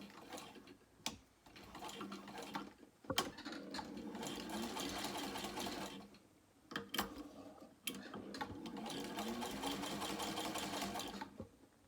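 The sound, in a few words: sewing machine stitching a bag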